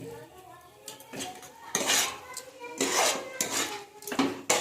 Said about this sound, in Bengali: আর একটু নেড়ে নিলেই নারকেলগুলো রেডি